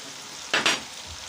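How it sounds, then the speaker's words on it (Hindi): Whole chicken roasting and frying in a covered pan for a patakha-style roast gives a steady low sizzle, with two brief louder bursts of crackle near the middle of the moment. "चिकन जो है हमारा फ्राई हो रहा है"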